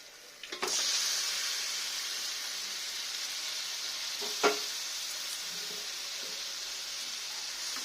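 Marinated mutton drops into fried, well-cooked masala with a sudden hiss that settles into a soft, steady sizzle, and a brief clatter or stir comes midway, all fairly quiet and close.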